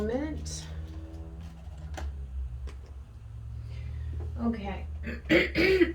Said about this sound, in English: I have to keep clearing my throat and coughing.